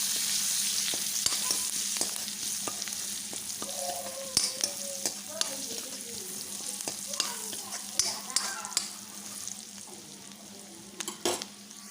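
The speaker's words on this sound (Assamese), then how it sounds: "এতিয়া মই পুনৰবাৰ লৰাই ল'ম।" Spices with salt, turmeric and cumin powder frying in oil, a soft continuous sizzle with repeated stirring scrapes and occasional sharp taps of the spoon against the pan, fairly quiet and without speech.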